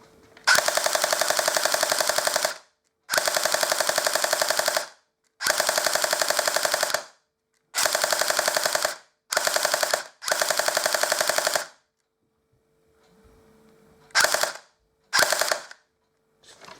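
Rewired Cyma Glock 18C airsoft pistol fired indoors, loud rapid bursts of shots in repeated runs of about two seconds each, then a couple of shorter bursts after a quiet pause.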